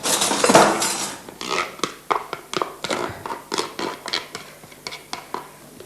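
A spoon clinks and scrapes in a dish while mixing calf's foot with persillade for Burgundy jambon persillé, with one loud clatter followed by a quick run of sharp, close taps and knocks.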